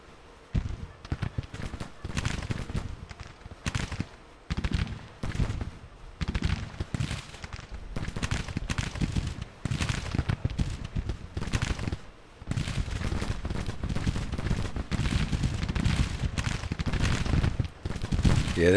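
Dense, rapid gunfire rattles through a video game battle, with sharp, overlapping musket-like volleys and bursts crackling almost continuously and loudly, nearer shots punching out over a distant background roar.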